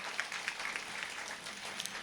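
Faint, distant applause from an auditorium crowd at a Tamil literary society event, a soft continuous patter of clapping heard from afar.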